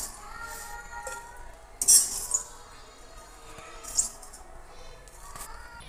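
Clinks and scrapes of a utensil against a pan as fried makhana (fox nuts) are lifted out, a few brighter metallic chinks standing out over a soft, steady kitchen background.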